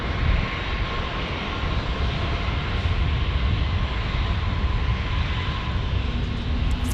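An Airbus A220-300 passing at San Diego airport, a loud, steady broadband jet roar with a faint whine, sustained throughout without speech.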